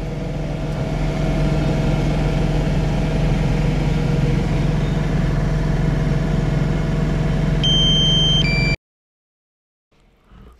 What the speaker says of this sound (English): So this tractor is 46 horsepower.